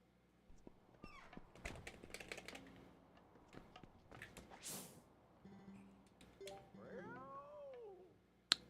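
A pet cat under a desk meows several times during a live stream, short cries scattered between keyboard clicks and room noise, fairly close and moderately loud.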